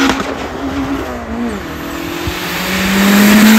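A Citroën Saxo VTS fitted with a turbo engine accelerates loudly and close by, its pitch rising in steady sweeps through the gears, ending in a strong high rev.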